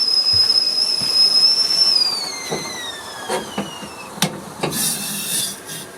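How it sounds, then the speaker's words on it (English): A kettle whistles with a steady high tone that slides downward and fades, followed by clinks and rattles of cups being handled nearby. "Kettle's boiling, that's a good sound."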